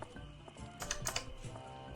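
Keys clatter on a computer keyboard during a PC game stream, a short burst of quick, light taps close to the microphone, faint and without voices.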